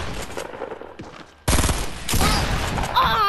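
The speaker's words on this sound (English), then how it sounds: "Yes, a shotgun." Shotgun fire in the Fortnite video game, loud sharp blasts breaking in after a quieter stretch of game sounds, followed by dense battle noise and a rising electronic tone, no talking.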